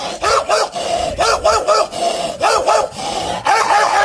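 A human voice imitates a big dog, giving a series of deep, loud barks in short bursts of two or three with brief pauses between them, close to the microphone.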